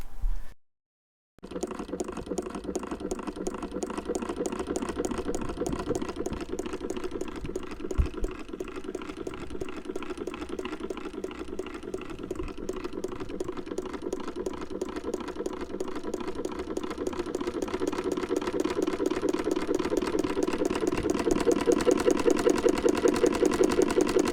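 A vintage Husqvarna 2000 domestic sewing machine runs steadily for over twenty seconds, a fast even mechanical clatter and hum that starts after a brief silence and swells slightly louder toward the end, close and without talk.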